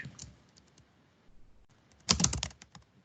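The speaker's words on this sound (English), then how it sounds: "I was typing to the wrong place" Computer keyboard typing while working in project-management software: a few scattered soft keystrokes early on, then a quick loud burst of clicking keys near the end, close and dry, with no voices.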